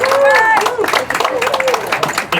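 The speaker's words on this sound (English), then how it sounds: "Let's have a round of applause." A crowd claps for builder Rick Anderson at a Sandwich Chamber building grand opening, with scattered loud claps mixed with voices and a whooping cheer throughout.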